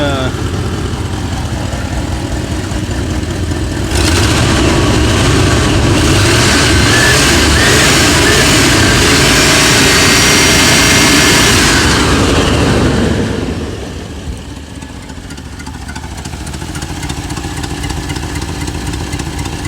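A 1988 Chevrolet Suburban 2500 V8, run again after six years of storage, roars loudly and steadily up close, swells louder for several seconds as if revved, then settles back to a lower running drone.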